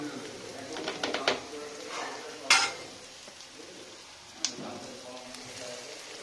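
Onion, turmeric and chili powder sizzling in hot oil, a soft steady fry punctuated by a few sharp clinks and scrapes of stirring, with a voice speaking briefly over it.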